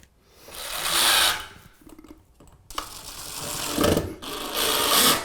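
A screw being driven into a 2x6 wood board during a bathtub remodel, heard as two loud bursts of drill whine with a quieter gap of handling noises between them, close up and with no talking.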